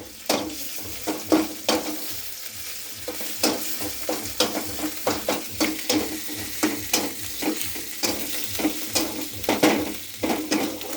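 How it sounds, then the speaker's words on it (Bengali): Ginger, garlic and onion frying in a pan for a fish curry, with a steady sizzle under repeated scraping stirs of a spatula, close and continuous. "আদা রসুন পেঁয়াজটা একটু লাল করে ভেজে নেব"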